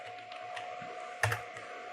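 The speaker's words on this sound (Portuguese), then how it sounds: "deixa eu já digitar minha senha aqui" A password typed on a computer keyboard, a few soft, close key taps with one sharper clack near the end, over a steady electronic hum.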